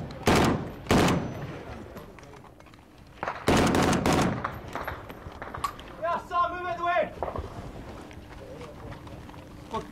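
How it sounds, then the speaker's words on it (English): Small arms fire and an RPG over a compound: sharp, loud bursts of gunfire near the start and again around four seconds, followed by a rattling, stuttering mechanical burst and scattered fainter noise, with voices in the background. "There's been small arms fire and an RPG fired over the compound with the guys at the moment."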